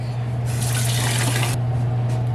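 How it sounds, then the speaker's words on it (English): A kitchen tap runs steadily while hands are rinsed under it, with a louder splashing stretch in the middle as the hands pass through the stream, close by with no talk. "Wash my hands real quick."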